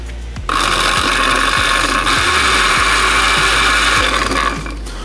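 A blender whirs steadily as it purées an achiote marinade for tacos, a loud continuous motor drone starting after a brief pause and running unbroken to the end.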